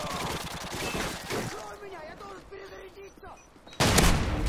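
Shotgun fire in Call of Duty: Modern Warfare 2 online multiplayer, clattering gunfire bursts early on, a quieter stretch with a voice, then a sharp loud blast near the end.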